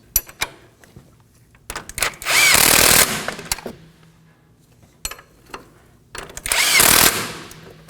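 Power tool running down steering knuckle mounting nuts on a Nissan Sentra: two short whirring bursts, each about a second long, separated by clinks and handling noises in a close garage setting.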